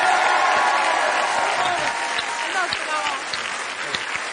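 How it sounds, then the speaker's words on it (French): A studio audience applauds a comedian named Artus as he is welcomed onto a French television talk show, a dense, steady wash of clapping with some crowd noise that tapers slightly over a few seconds. "Merci d'applaudir Artus"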